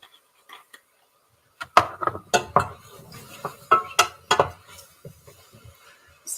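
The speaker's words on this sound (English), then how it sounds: "Just give it a bit of a stir to mix it all through." Mushroom soup being stirred in a pot in a home kitchen: a spoon clinks and scrapes against the pot in irregular knocks and clatters, close and moderately loud, with short quiet gaps between strokes.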